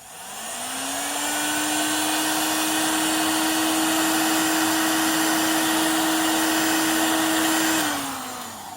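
A heat gun on a workshop bench spins up, whines and blows with a loud, steady hum for several seconds, then winds down at the end, close and with no talking.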